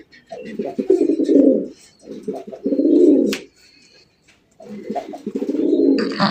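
A domestic red pigeon coos in several rounded, throaty phrases separated by short pauses, close and fairly loud, with faint background chirps and clicks.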